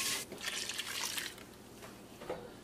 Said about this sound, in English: I'll rinse it out with a bit of water.